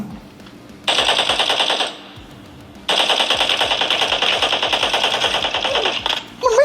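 Rapid automatic gunfire from a mobile shooter video game plays in two sustained bursts separated by a short pause, loud and steady, with a faint background hum.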